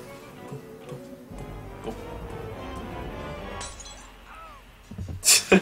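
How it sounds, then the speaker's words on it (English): Glass breaking in the video game Phantasmagoria, with a quiet stretch of game ambience and a few faint sounds before a sudden bright shattering crash near the end, then a second brief burst. "I just hear something break."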